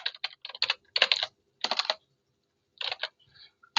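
Computer keyboard typing during a database connection setup, quick bursts of clicking keystrokes in several clustered runs separated by short pauses, close and fairly clear with no talk.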